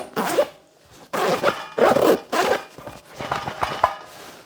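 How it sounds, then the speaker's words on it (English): Zippers on an ACETAC SOP Micro Chest Rig are pulled open and shut repeatedly, close, loud rasping zips in quick bursts with short pauses between them. "They zip and unzip really well."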